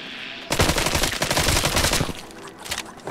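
Rapid shotgun blasts from the VR zombie shooter Arizona Sunshine, a dense loud burst of repeated shots after a brief quiet start, trailing off with a few scattered reports.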